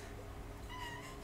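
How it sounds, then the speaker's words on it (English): A single cat meows faintly at a vape expo, a short rising call heard under a low hum of background crowd noise. "random cat"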